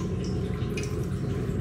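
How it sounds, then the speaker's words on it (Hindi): Water runs steadily while a container is being filled, a continuous close splashing and trickling with faint dripping, no voices. "जो पानी की आवाज़ आ रही है वो पानी की आवाज़ इस कारण आ रही है कि मैं पानी भर रही हूँ"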